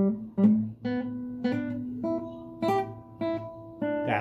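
Acoustic guitar hammer-ons played in a rushed, uneven way: seven or eight plucked notes with quick slurred pull-ups, each attack ringing briefly before the next, close and clear with no talking.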